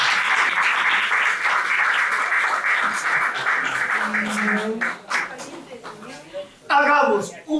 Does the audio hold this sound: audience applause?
yes